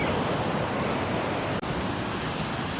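Wind and surf at Da Nang beach on a foggy rainy-season evening, a dense, constant roar of waves mixed with wind rushing across the microphone, with a momentary dropout near the end.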